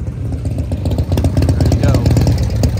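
Small pit bike motorcycle at a swap meet, its engine running close by with a rapid, steady putter that grows slightly louder midway, while a voice talks over part of it.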